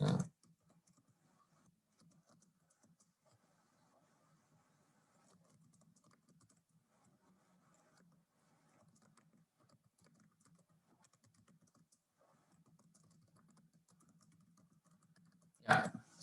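Soft, close computer keyboard typing as code is entered, a quiet patter of keystrokes in irregular bursts across the whole stretch, bracketed by louder thumps at start and end.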